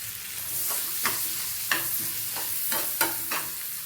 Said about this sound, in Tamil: இது நல்லா வதங்கட்டும், பொன்னிறமாக வரட்டும்.